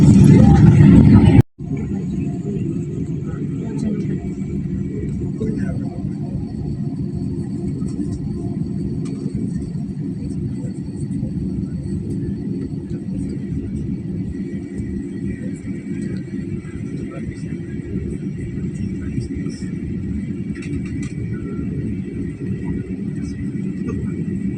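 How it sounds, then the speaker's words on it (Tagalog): A Philippine Airlines airliner's engines rumble from inside the cabin during takeoff, a steady, loud low roar that holds unbroken after a brief cut near the start. "Lilipad na ang aming aeroplano."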